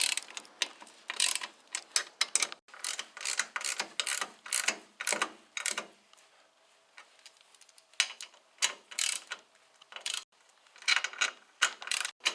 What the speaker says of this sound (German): Dann können wir die Schrauben alle anziehen